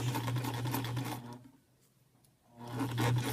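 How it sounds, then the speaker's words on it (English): Sewing machine stitching a plush unicorn's ear, running steadily, pausing briefly for about a second as the fabric is turned, then running again close by. "Put your presser foot back down and slowly finish sewing your ear."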